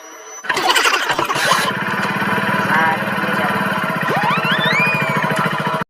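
A motorcycle is started with its electric self-starter: a loud close crank catches after about a second and settles into a steady, throbbing idle, with a brief rising squeal partway through.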